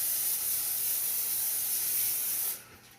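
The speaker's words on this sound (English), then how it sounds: "You want to spray this really good" Cooking spray hissing in one steady burst onto tin foil for a foil-wrapped grill meal, close and loud, cutting off sharply near the end with a quieter tail.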